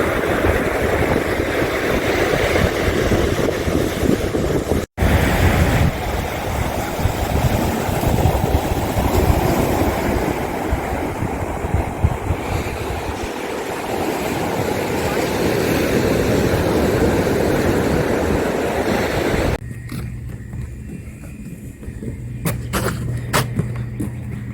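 Broadband roar of ocean waves surging onto a beach, loud and continuous with slow swells, mixed with wind and a low engine-like rumble, before the sound thins near the end.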